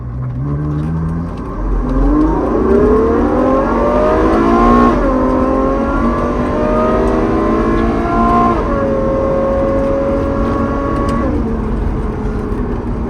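A Ferrari fitted with a custom titanium exhaust accelerates through its first gears, engine revs climbing in rising sweeps with short dips at each shift, loud and close throughout and without talk.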